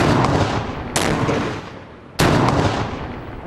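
Two sharp blasts from test explosions set off by SAS engineers, each a sudden loud bang trailing into a long rumbling decay, the second coming about a second after the first fades.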